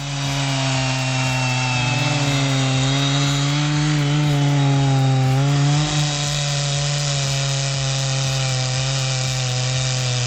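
A Stihl 880 chainsaw cuts through a large tree log, its engine holding a loud, steady high whine for the whole stretch as the chain bites continuously through the wood.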